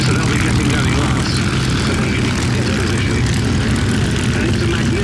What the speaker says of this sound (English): There are the Mark 1s firing up on the line.